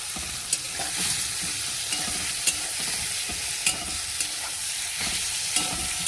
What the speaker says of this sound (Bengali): এবার আলুটা তুলে দেবো, আলুটা দিয়ে দিচ্ছি।